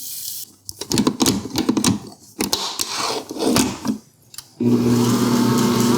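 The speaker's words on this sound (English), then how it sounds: "So this is a part of the recipe that you need the heavy duty mixer" Heavy-duty stand mixer working old-fashioned oats into cookie dough for oatmeal raisin cookies, giving a choppy, uneven mechanical whirring with clunks and labored surges, then settling into a steady loud motor hum.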